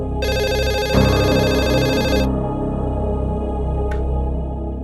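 A telephone rings indoors with a bright, repeating electronic ringtone that cuts off partway through, leaving a fainter tone behind.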